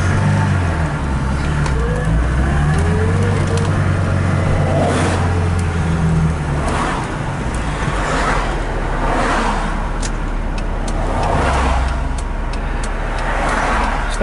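A 1982 BMW 320i drives in heavy traffic near Laguna Beach, heard from inside the car. Its engine drones steadily and loudly throughout, with revs rising and falling as it moves through gears, under a constant road rumble.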